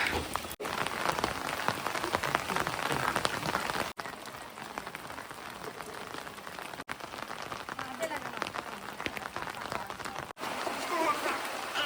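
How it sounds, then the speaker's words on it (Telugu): Continuous patter of light rain falling on surfaces nearby, a steady soft hiss with tiny drops, with a few brief dropouts. "వర్షం అయితే మాత్రం కురుస్తూనే ఉంది లైట్గా"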